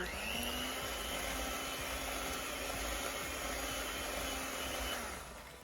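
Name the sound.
electric whisk mixing in a mixing bowl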